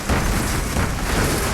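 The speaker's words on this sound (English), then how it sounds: "So here you can see the missile launcher for the technicals." The missile launcher on a GLA technical exploding in C&C Generals: a loud, dense blast that roars steadily with no break for about a second and a half.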